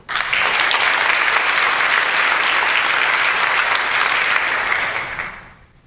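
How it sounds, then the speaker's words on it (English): Sustained audience applause at a panel discussion on suicide, welcoming a survivor about to share his story; dense steady clapping fills the room for about five seconds, then fades out. "Round of applause for Grant."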